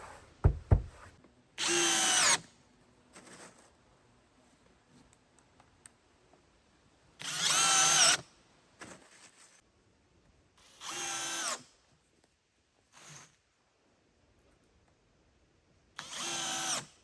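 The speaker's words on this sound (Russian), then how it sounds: "Дверь прокрутил, саморезы не жалел." Power drill driving self-tapping screws into a wooden door on a small hand-built hut, in four loud whirring bursts of a second or so each, separated by quieter pauses with faint clicks and handling noises, with no talking.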